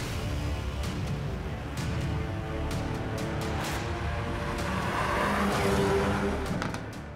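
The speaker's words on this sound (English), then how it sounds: "we're going to drive the brand new Hyundai i30 Fastback and, in our case, the performance version" A Hyundai i30 Fastback N performance car drives along with a steady engine drone and road roar, its engine note rising slightly toward the end, with faint tire noise and no voices.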